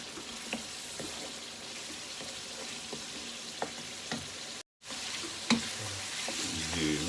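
Mutton frying (bhuna) for aloo gosht, a continuous close sizzle with occasional stirring knocks and scrapes against the pot, briefly cut by a moment of silence before the crackle resumes slightly louder.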